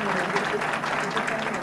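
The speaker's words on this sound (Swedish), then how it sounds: "Hon är värd en applåd, absolut" Applause from an audience at a Swedish television program as a guest is welcomed, steady dense clapping held at an even level through the short stretch, with some voices mixed in.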